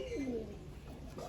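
A pigeon in a loft gives a soft, throaty coo, heard close and alone over faint background hum.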